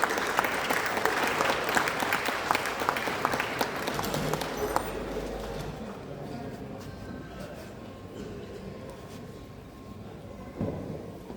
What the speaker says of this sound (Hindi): आप जोरदार तालियों से उनका स्वागत करें